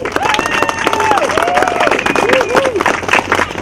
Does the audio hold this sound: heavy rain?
no